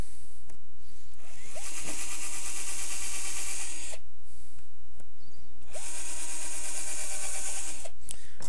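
Drill running with a 1/8 inch bit boring a pilot hole through a piece clamped to a faceplate, two steady whining bursts of about two seconds each, close, with clicks and clunks as it starts and stops.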